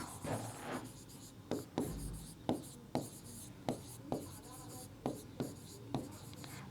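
A pen writing out a conclusion during a Class 9 maths statistics lesson: close, scratchy strokes in a steady rhythm of short bursts, with a faint voice now and then underneath.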